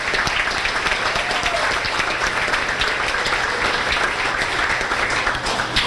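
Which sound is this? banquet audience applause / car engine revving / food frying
banquet audience applause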